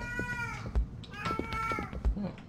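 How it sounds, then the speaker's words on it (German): A cat meows repeatedly in short, drawn-out cries in the horror game Erie, with soft thumps and a murmuring voice underneath. "Ich höre eine Katze."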